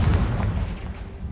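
A Confringo blasting spell explodes in the Hogwarts Legacy video game, a heavy low boom that rumbles through the whole short moment with no voice over it.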